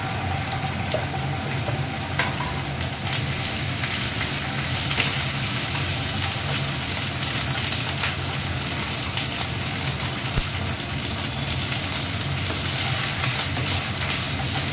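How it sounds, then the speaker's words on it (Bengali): Ginger, garlic and chili paste frying in oil in a pan over a moderate flame give a steady, close, even sizzle that runs unbroken throughout, with no talking. "আদা পেস্টের সঙ্গে এই যে রসুন লঙ্কা এইসব পেস্টটা দিলাম"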